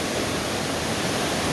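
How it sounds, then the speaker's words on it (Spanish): The strong current of the El Diamante river in El Salvador, swollen during a tropical storm, rushes in a dense, steady roar of churning water, loud and unbroken with no voices. "esa fuerte corriente de este río El Diamante que está ubicado en El Salvador"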